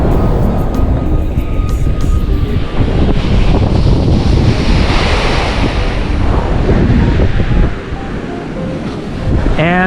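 Ocean waves break on a Kauai, Hawaii beach, a loud continuous roar of surf mixed with heavy wind buffeting the microphone, easing slightly near the end.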